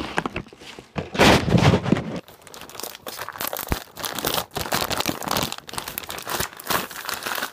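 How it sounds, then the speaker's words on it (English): A CM Storm Devastator keyboard is pulled from its packaging with loud crinkling and crumpling of plastic and cardboard close by, followed by scattered rustles, taps and handling noises in irregular bursts. "let me take out the keyboard"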